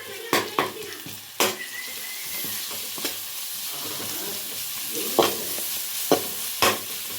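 Ginger garlic paste frying with onion and green chillies in a hot pan, a steady sizzle throughout broken by several sharp scrapes and knocks of a spoon stirring against the metal.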